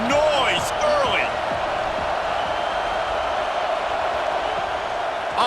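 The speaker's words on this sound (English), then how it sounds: "This crowd bringing the energy and noise early." Stadium crowd in the College Football 26 video game, a steady loud roar of cheering fans filling the space, with a few brief whistle-like tones at the start.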